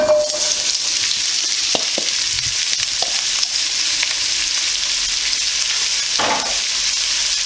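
Chopped onion sizzles steadily in hot oil in a pan over medium-high heat, a dense continuous frying hiss with a few faint stirring clinks and knocks.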